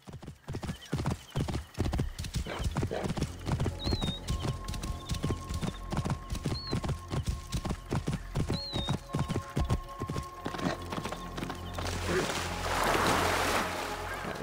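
Steady clip-clop of horse hooves at a brisk trotting rhythm in Assassin's Creed Origins, with a few faint whinnies and a swell of rushing noise near the end.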